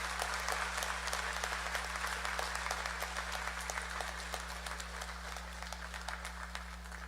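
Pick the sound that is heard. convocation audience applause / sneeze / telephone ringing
convocation audience applause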